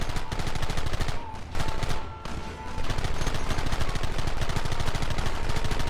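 Relentless, dense gunfire from Red Dead Redemption crackles almost nonstop at close range, rapid shots overlapping into a continuous rattling barrage with only a brief lull midway.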